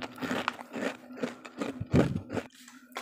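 Crisp crunching bites into crunchy rice crackers (keripik getasan, kemplang), several sharp close-up snaps spaced out over a few seconds with quiet pauses between, no talking.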